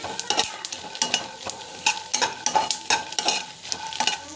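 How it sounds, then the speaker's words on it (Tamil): Chilies are sautéed in a pan for a kovakai pachadi, with quick rhythmic scrapes and clacks of a spatula over a soft sizzle. The stirring strokes repeat close up, and no one speaks. "இந்த மிளகா வந்து பார்த்திங்கன்னா நல்லா வந்து வதங்கணும்"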